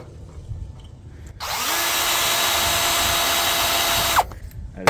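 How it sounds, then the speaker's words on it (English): A power drill with a completely dull bit, drilling during a steel flatbed rebuild, whines steadily for about three seconds, close and loud, with a slight pitch drop near the end before stopping abruptly. "this drill bit is completely dull"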